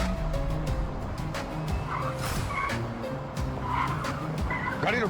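A car in a Hindi crime drama scene skids to a stop with loud, sustained tire squeal over a revving engine. The sound is close and continuous, with no talk.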